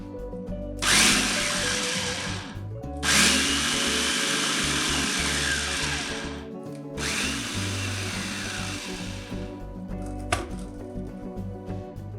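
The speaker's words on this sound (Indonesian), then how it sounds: "untuk memblendernya saya menggunakan chopper andalan dari Mitochiba" Mitochiba chopper blending brulee bomb filling until smooth, a loud whirring motor in three bursts of several seconds each, separated by short pauses, with no talk.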